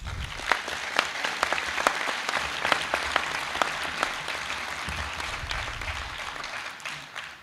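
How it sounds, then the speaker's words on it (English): A graduating high school class applauding at the Lawrence High School Class of 2022 ceremony, a dense, sustained wash of many hands clapping with sharp individual claps standing out, steady for several seconds in a large hall. "So give yourselves a round of applause."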